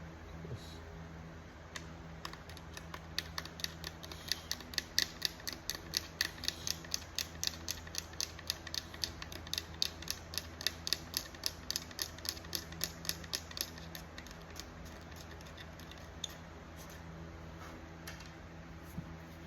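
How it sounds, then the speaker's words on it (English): A blade scrapes dried Envirolak 100/30 finish coat, giving a steady run of quick, faint scratchy strokes in a regular rhythm that builds and then tapers, close but quiet. "I'm gonna try to do it with a blade."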